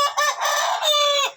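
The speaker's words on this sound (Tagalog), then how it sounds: "Yan, tumitilaok na rin yung binabae na yun eh." A rooster crows close by, one loud, strained call with a wavering rise and a drawn-out, fading finish.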